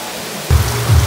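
Heavy rain pours down outdoors, catching people in the middle of a meal. A steady broadband wash fills the clip and swells into a louder, deeper rush about halfway through.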